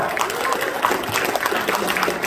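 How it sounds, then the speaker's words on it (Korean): Audience applauding at a political party launch ceremony in South Jeollanam-do, a dense, steady wash of clapping filling the whole stretch at close range with no clear speech over it. "동의하시면 뜨거운 박수 한번 부탁드립니다"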